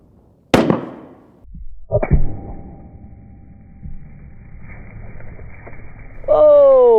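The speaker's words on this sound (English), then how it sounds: "Oh, that was a big explosion." A single sharp crack from a 6.5 PRC rifle rings out up close. About a second and a half later comes a second heavy bang from an exploding target jug, then a quieter tail and a brief tonal sound at the end.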